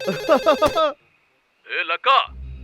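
A telephone rings in two short bursts separated by a brief silence, close and clear.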